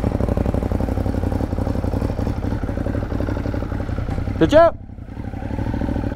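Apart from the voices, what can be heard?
motorcycle engine running, 2015 motorcycle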